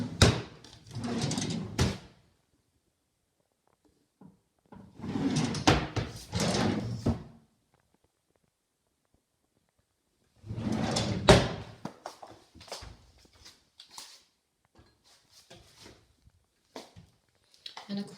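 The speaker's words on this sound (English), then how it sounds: "I'm just going to check the drawers." Kitchen drawers and cupboard doors are opened and closed in several separate bursts of sliding, knocking and clattering, fairly close, with quiet gaps and light scattered handling noises between them.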